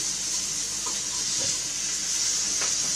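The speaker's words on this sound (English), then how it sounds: "It's just the frying tomatoes." Tomatoes frying in a pan give a steady, close sizzle and hiss throughout, with a few faint scraping stirs.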